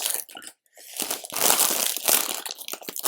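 A plastic bag of LEGO pieces from the Disney Hocus Pocus House set being torn open and handled, giving loud close crinkling and crunching with a brief pause near the start and no talking.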